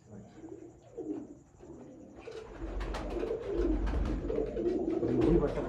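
Pigeons coo softly in low, throaty bursts, with a faint chirp, while rustling and low background noise build up.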